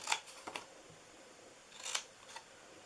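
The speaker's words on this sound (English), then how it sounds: "And then you're going to cut the bottoms up" Scissors snip through paper while a Santa treat box is being cut, giving a few quiet, crisp cuts in two separate bursts, close up with no talking.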